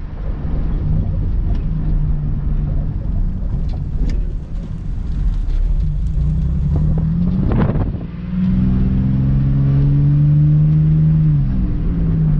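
A 1996 Chevrolet Impala SS V8 revs steadily while burning off old gas, holding a loud, close, continuous engine drone. Near the eighth second the revs dip and swell, and the engine then settles into a higher, sustained rev.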